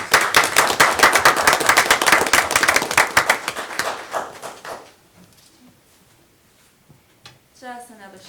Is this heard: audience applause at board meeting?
yes